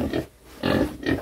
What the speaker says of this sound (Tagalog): Ito yung mga baboy nating tisoy at tisay.